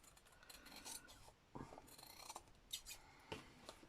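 Sewing scissors snip and rasp through stiff card in a run of short, irregular cuts, close and fairly quiet, with no voices.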